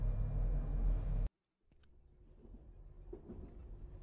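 A ghost train in a spooky video game passes with a heavy, loud rumble that cuts off abruptly, followed by faint rattles and clatter.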